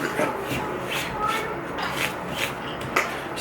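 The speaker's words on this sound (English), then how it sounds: "you have a little bit of flattening to do with your coarse stone" Cold Steel knife blade stroked across a coarse sharpening stone, giving a steady rasping scrape with a few stronger strokes, fairly close and continuous for the whole stretch.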